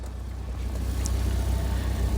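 Small 1.2-litre petrol engine of a Vauxhall Corsa B Merit idling smoothly and quietly with a new rear exhaust box, a steady low rumble with faint wind noise and no talking.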